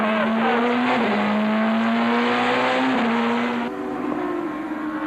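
Peugeot touring cars race hard at Brands Hatch in a 1998 BTCC event, one engine holding a loud, steady high drone that shifts pitch through gear changes, with tyre noise underneath.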